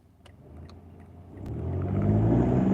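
A car on the road, with a low engine rumble and steady whir that swell louder over a few seconds as if accelerating, plus a few faint clicks near the start; no talking.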